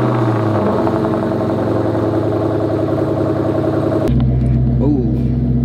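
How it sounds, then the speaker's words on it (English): A Terminator Cobra fitted with a triple S exhaust idles loud and close after a cold start, a steady rumbling drone that shifts abruptly in tone near the end. "Let's get a cold start."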